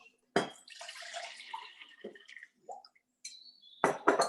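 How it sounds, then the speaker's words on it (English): Fermented kombucha tea being poured at home, a broad splashing pour lasting about two seconds with trickles and drips after, then clattering handling noises near the end. "what you do, you pour the fermented tea."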